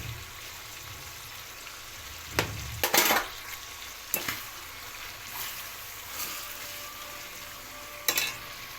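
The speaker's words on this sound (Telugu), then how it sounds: "కుక్కర్లో ఉడికిన తర్వాత ఇప్పుడు ఫ్రై" Goat tripe boti, pressure-cooked and then fried in a pan for a Telugu recipe, sizzles with a steady hiss broken by several sharp spatters and stirring scrapes.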